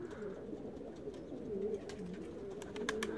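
A female homing pigeon coos repeatedly at a familiar loft during a release, with soft, throaty calls over steady background noise and a few faint higher chirps.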